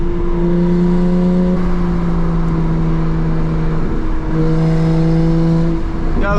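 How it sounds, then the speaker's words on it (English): A single-turbo BMW 335i at high boost drones with steady engine harmonics, its tone shifting once midway, before a quick blow-off valve whoosh near the end; loud and close, with no talking. "Got a little blow off there for you guys."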